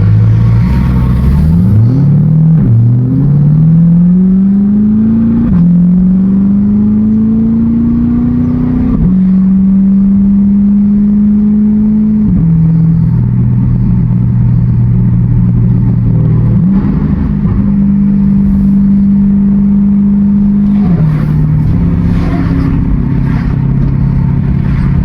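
Modified C8 Corvette driving under load, its exhaust note climbing and dropping through repeated gear pulls, a loud, close, sustained engine roar with rising pitch sweeps and shift breaks.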